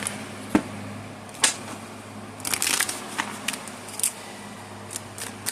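Tarot cards shuffled by hand in several quick crisp bursts, close and fairly quiet, with a longer riffling flurry in the middle over a low steady hum.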